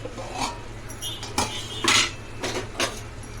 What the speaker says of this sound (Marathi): आपण झाकण काढून बघूया